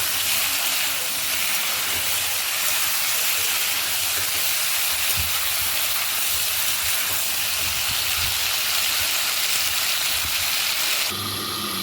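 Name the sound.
cauliflower frying lightly in a pan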